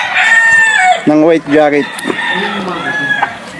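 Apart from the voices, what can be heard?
chickens and roosters crowing and clucking at a game farm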